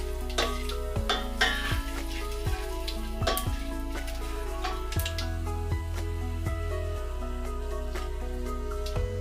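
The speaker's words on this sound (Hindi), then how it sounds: "इसको थोड़ी देर सौटे करेंगे, ज़्यादा टाइम नहीं लेंगे," Whole spices sautéing in hot oil for chicken rara, giving a steady close sizzle with occasional ticks and knocks of the pan over a constant low tonal hum.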